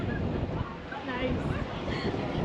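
Strong wind roars and buffets the microphone outdoors in Turkistan, Kazakhstan, a steady rushing noise with a voice faintly mixed underneath.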